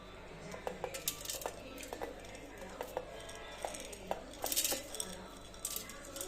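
Coconut chutney ingredients are scraped with a spoon into a steel mixer jar, producing a series of light metallic clinks and taps in an uneven rhythm over a quiet kitchen background.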